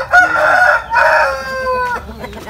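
A rooster crows loudly in two long, wavering calls close by, with chickens clucking and farmyard noise in the background at a Bangkok chicken farm in Pesantren, Tambak, Banyumas.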